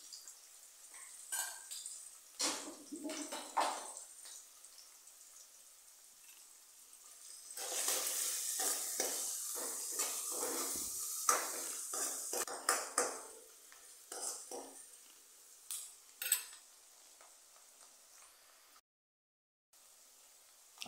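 Onion cooking with turmeric in a pan for a green chickpea curry, heard as clinks and scrapes of a spoon against cookware with a soft sizzle underneath, loudest in a dense middle stretch.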